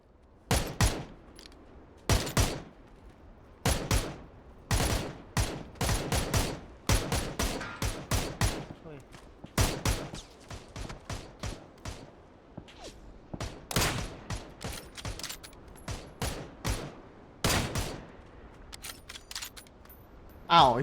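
Rifle gunfire in PUBG from a shooter lying prone, sounding as a long series of sharp, separate reports at irregular intervals, some close and loud, others softer, with occasional voices.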